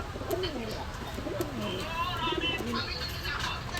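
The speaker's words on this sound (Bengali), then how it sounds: "এই এক রামপুরি কবুতর আছে খুব সুন্দর কোয়ালিটি" Rampuri pigeons coo in soft, repeated low throaty phrases close by, with faint chirps and a steady background hum throughout.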